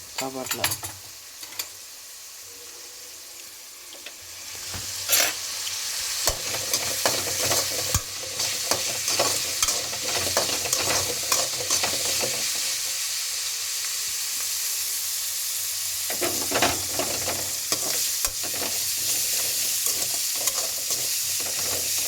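Onions sautéing in a pan for lemon rice crackle with a steady sizzle, broken by repeated scraping stirs of a spatula against the pan, close and continuous with short quieter gaps.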